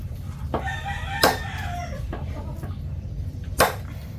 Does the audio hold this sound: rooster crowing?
yes